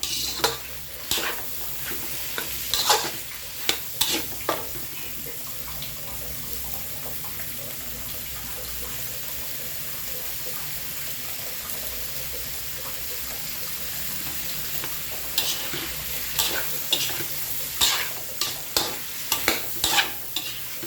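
Mushrooms and long beans are stir-fried in a pan, with a continuous close sizzle and repeated clattering scrapes of the utensil against the pan in bursts.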